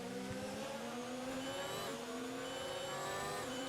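Formula 1 car engine in the F1 2019 racing game, a high-pitched screaming whine that rises and drops through gear shifts, loud and continuous on track with no speech.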